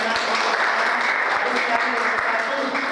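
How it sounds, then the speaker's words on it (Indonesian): Students applauding classmates in a classroom, a short dense patter of clapping close by, with a few louder individual claps over a background of room noise. "Oke, kasih tepuk tangan untuk teman-teman ini."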